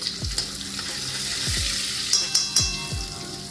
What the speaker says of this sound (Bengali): গার্লিকের সাথে ফ্লেভারটা আনার জন্য শুধু বাটারটা দিলাম